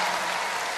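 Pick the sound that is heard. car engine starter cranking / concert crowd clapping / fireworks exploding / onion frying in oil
concert crowd clapping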